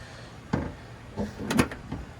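A Ferrari 488 Spyder door or panel closing, heard as a few soft thumps and clicks over about two seconds, close and fairly quiet, with no talking.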